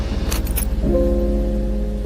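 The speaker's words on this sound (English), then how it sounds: "Keys jingling, deep exhale." A brief metallic jingle of keys sounds close by, then fades into a low, steady hum of a quiet interior.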